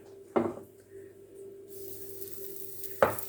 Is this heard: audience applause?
no